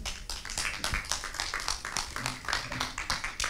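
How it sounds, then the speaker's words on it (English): Applause from an audience at a digital society conference event, a steady dense patter of clapping that runs throughout without pause. "So please give a warm applause for these three very interesting speakers tonight."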